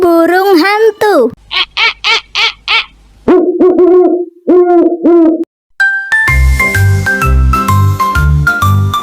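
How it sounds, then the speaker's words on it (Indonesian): An owl hoots in a short series of repeated calls, alternating with a sung voice, before bright children's music with a steady beat takes over near the end. "Burung hantu."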